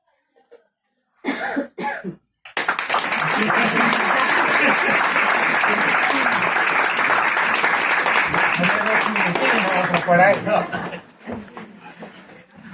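Audience applause following a poetry recital in Asturias, a long burst of clapping that swells fast after a few coughs and short bursts, holds steady and loud for several seconds, then thins out with scattered claps and murmuring.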